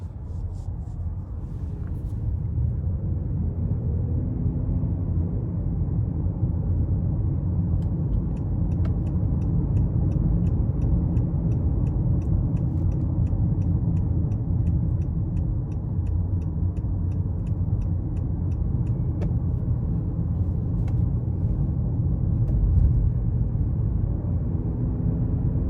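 A 2021 Honda Accord Hybrid EX-L in sport mode pulls hard onto an interstate, heard from inside as a steady low cabin drone of road and motor noise with faint ticking on top and no talking.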